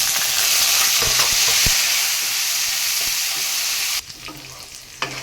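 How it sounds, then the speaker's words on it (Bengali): Cashews and raisins fry in a pan with a loud, steady close sizzle and a few stirring scrapes, the hiss dropping sharply near the end, no talking. "কাজু কিশমিশটা খানিকটা ভেজে নিয়ে এরপরে দিয়ে দিচ্ছি চালটা"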